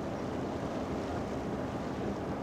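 Ferry boat moving across the water near Opua, New Zealand, with steady, loud broadband wind rushing over the microphone and a low engine and water wash beneath, continuous and unbroken with no voices.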